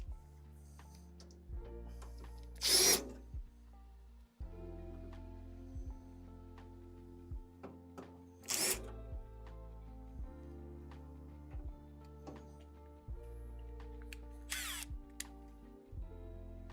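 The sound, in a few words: power drill removing bottom screws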